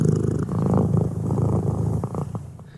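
A cat purrs close by in a steady, continuous low rumble that stays loud throughout, with a few faint bumps near the end.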